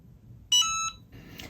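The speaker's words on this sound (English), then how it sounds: "Once it's ready, it will turn green and audibly beep." A Cricut heat press gives a single short, bright electronic beep when it reaches temperature, clear and close against quiet room noise.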